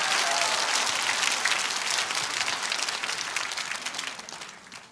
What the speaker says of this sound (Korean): 이거 박수 한번 쳐야 됩니다